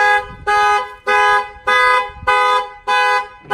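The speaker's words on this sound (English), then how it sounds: "If somebody goes ahead and try to break the window, the alarm will fire off." Aftermarket car alarm on a Chevrolet Silverado 2500 pickup blaring in loud, evenly spaced honking blasts, six pulses in quick succession, close and alone.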